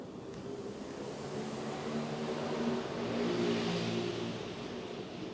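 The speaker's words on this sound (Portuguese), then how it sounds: "Desculpe os barulhos aí, mas é inevitável. Passa muito ônibus, caminhão" Street traffic outside: buses and trucks rumble past in a steady broadband roar that swells midway like an engine passing close, with no talk.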